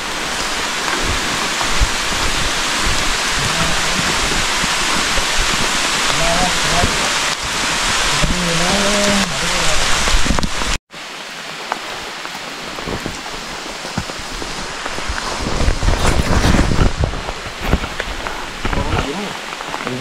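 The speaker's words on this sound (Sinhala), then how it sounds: "ආයේ පොඩි වැස්සක් ඇදහෙලෙනවා" Light rain falls steadily over a night campsite on Mathalagala mountain, a dense, even hiss of drops that briefly cuts out and then resumes, with faint voices mixed in.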